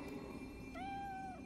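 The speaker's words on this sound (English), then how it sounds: "Yokai cat." A video game yokai cat gives a single drawn-out, tonal meow that rises and slowly falls, heard clearly over a steady low game ambience.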